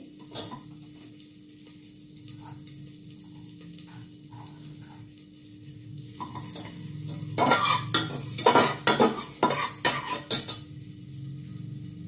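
Garlic and chopped onion frying in a pan for a mushroom corn soup, a quiet low sizzle that swells into a burst of loud stirring scrapes and clatter near the end, no speech.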